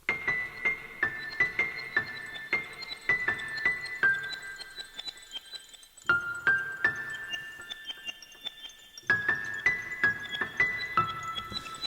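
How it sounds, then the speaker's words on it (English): Electric piano notes from Native Instruments Alicia's Electric Keys, played through the Nervous Particles patch with a reverse reverb effect: bright, glassy chimed chords that swell and tinkle in repeated phrases, with a short gap midway. "use a patch called Nervous Particles, and gives this like a reverse reverb type effect"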